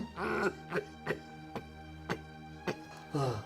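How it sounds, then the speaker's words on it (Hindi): A series of short, separate coughs and throat-clearing sounds, about seven bursts spaced unevenly, close and fairly quiet, with no talking. "देखिए खांसी उठ रही है।"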